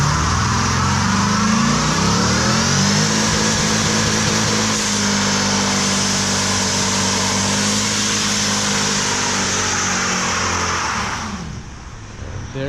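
A 500HP C5 Corvette roars through a long, loud, sustained high-rev burnout, its engine note holding steady and harmonic-rich close by before cutting off sharply near the end.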